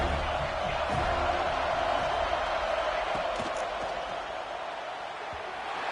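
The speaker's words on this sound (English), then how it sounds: "how nice is it to have that home crowd going absolutely bananas" A home crowd roars in a steady, loud wash of cheering at a college football game between Kansas and FSU, sustained throughout with no clear breaks.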